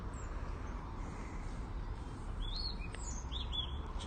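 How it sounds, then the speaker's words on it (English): Birds chirp at Trentham lake, a few short thin tweets scattered over a quiet outdoor background hum, fairly distant and soft. "With a little bit of a few bird sounds."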